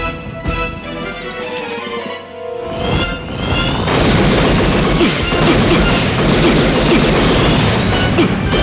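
Armor-piercing gunfire in the video game Policenauts hits after a quieter musical stretch, becoming a loud, sustained wall of crashing, booming impacts.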